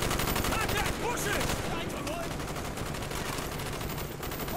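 AK rifle fire in Call of Duty Black Ops, a rapid automatic stream of crackling shots that runs steadily throughout, loud and dense with a faint voice underneath.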